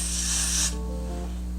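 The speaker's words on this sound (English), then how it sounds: "I'm gonna take my got to be glued spray" Got2b Glued hair spray hissing onto hair during a wig install: one steady, close spray burst lasting about half a second and then stopping abruptly, followed by quiet room noise with no talking.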